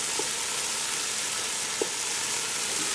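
Chicken pancit bihon sizzles steadily in a pan while being stirred, a dense continuous hiss with a couple of faint utensil scrapes, close and even throughout with no talking.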